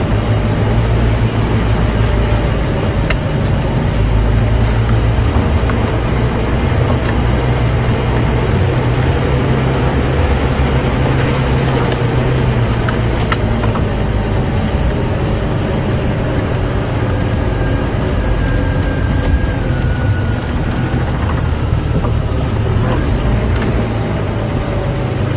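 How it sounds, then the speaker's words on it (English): A safari vehicle idles and crawls in low range at kept-down revs on a game drive at Djuma Game Reserve; a steady, loud low engine rumble continues without break, with no talk over it. "put my vehicle into low range, because I can see one of the youngsters there."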